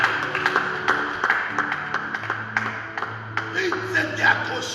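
Congregation at a French-language church service clapping in a loose, uneven rhythm to acclaim Jesus, a run of sharp claps with some tonal ringing and sustained musical tones underneath.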